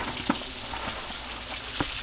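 A pot of water with pasta going in boils on a small stovetop burner, giving a steady close hiss and bubbling with a couple of brief clinks, and no voice.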